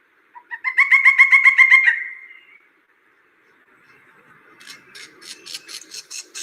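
Ivory-billed woodpecker call: a rapid series of nasal, toot-like notes in a close, clear burst, followed after a short silence by a second run of fainter, sharper repeated notes.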